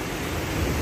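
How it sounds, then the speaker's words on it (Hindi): Broadband wash of sea waves on Ajman beach, a steady near rush with no distinct breaks, carried in wind over a brief stretch. "आवाज सुनो पानी की माशाल्लाह कितना शोर है ये"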